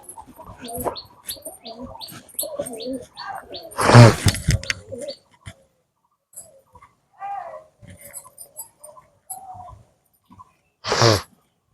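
Soft, low cooing from penned Mukhi pigeons, intermittent and close, mixed with flapping and a couple of louder bursts.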